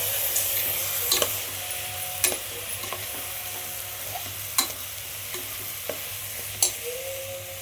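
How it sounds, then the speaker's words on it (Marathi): A spoon mixes whole masoor lentils with salt in a hot pan, producing repeated scraping strokes and clinks over a continuous close sizzle, with no one talking. "आता हे आपण एक जीव करून घेणार मस्त असं"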